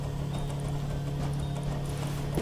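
A horse trots in the survival video game Rust, its hooves clip-clopping in a quick, even rhythm over a steady low engine-like hum, with no talk.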